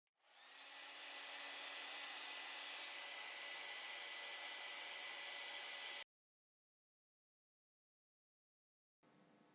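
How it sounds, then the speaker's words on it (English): Heat gun or hair dryer shrinking heat shrink tubing over bridge rectifier connections, a loud steady whooshing blow for about six seconds, cutting off to silence before briefly starting again. "use a heat gun or a hairdryer to shrink it up"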